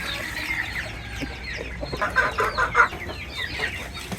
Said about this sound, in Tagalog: Pakita nga natin yung sisiw natin.